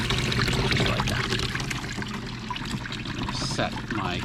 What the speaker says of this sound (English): you should have a nice smooth fan of material or of water going over the bottom